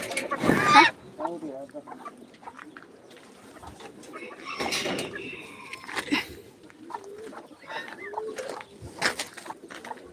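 Geese, turkeys and chickens at a home poultry coop call and cluck in a lively mix, with a loud burst near the start and scattered honks and coos throughout, while a person talks nearby.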